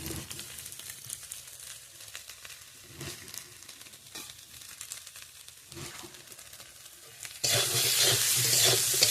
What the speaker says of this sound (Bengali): এবার আরেকটু সুন্দর করে ভেজে নিতে হবে, ভালো করে কষিয়ে যেন মশলার কাঁচা গন্ধটা না আসে